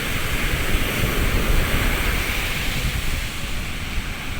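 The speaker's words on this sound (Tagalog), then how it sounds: "malalaki pa rin ang alon" Large six-foot ocean waves crash and suck back along the shoreline in a continuous loud, broad roar, wind noise mixed in, with no one talking.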